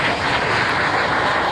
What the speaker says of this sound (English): that was the tornado flying over the top